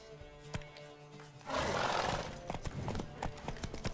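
Racing horse galloping in The Witcher 3, a burst of hoofbeats and rough rumbling that jumps in loud partway through and keeps pounding close up, with scattered sharp clops.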